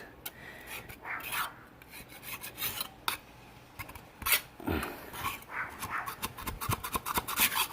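Rasping scrape of gunk being cleaned off the surface of a 350 Chevy engine in a 99 Tahoe during a head gasket job, a series of uneven close strokes with a few short pauses.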